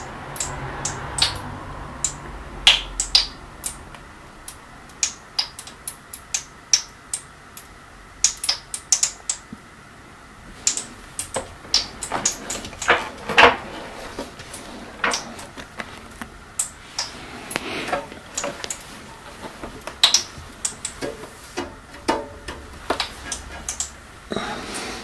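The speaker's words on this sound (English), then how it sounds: "Now you can listen, the oil is heating inside of the radiator" Oil heating inside a 2000 W oil-filled radiator heater gives irregular ticks and clicks, some sharp and close, scattered over quiet background noise.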